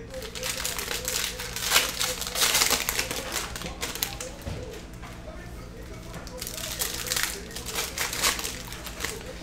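Crinkly foil wrapper of a 2020 Mosaic football trading card pack being torn and crumpled, a steady rustling crackle that rises and falls for several seconds, close to the mic.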